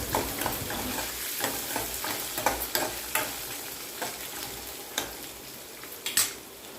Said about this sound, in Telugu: ఇప్పుడు దంచిపెట్టుకున్న ఎల్లిపాయలు కూడా అందులో వేసుకొని కలబెట్టుకోవాలి